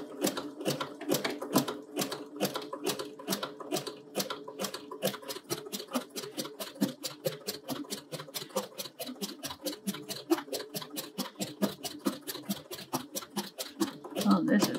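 A sewing machine with a quilting foot does free-motion quilting through fabric pinned to stabilizer, its needle clattering in fast, steady bursts that speed up and slow down, with a person talking briefly.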